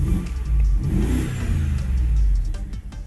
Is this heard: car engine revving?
yes